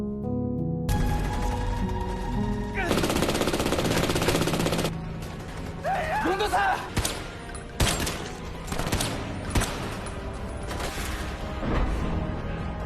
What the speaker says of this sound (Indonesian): Tetapi dirinya kehabisan peluru dan akhirnya tertembak.